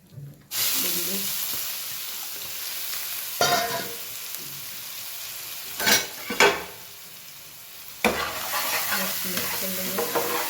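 Fenugreek seeds and ground onion sizzle in a hot pan with a steady frying hiss. A spoon stirs and scrapes against the pan in a few louder clattering strokes spread across the clip.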